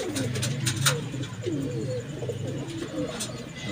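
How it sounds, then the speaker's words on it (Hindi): Ferozepuri breed pigeons coo close by in soft, repeated throaty calls, with a few sharp clicks and faint background noise around them. "फिरोजपुरी कबूतर आपको दिखा रहे हैं"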